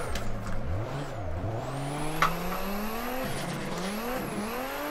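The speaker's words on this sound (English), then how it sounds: "We are drifting." A Nissan Skyline R32 drifting in Assetto Corsa, its engine droning and rising through revs while tires squeal in long sustained screeches, loud and close throughout without talk.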